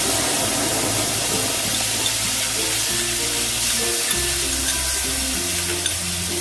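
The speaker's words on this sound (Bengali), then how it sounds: "জিরে একটু ফোড়ন দিয়ে দিলাম, একটু ফোড়নটা ভাজা হবে।" Cumin seeds crackle and sizzle loudly in hot oil, a dense, continuous frying hiss close up, with occasional stirring underneath.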